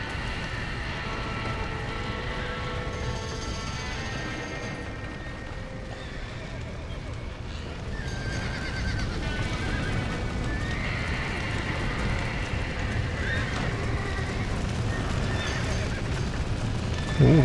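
In the video game Red Dead Redemption, horses whinny and hooves clatter in a busy scene, with rumbling background noise and voices shouting over the commotion.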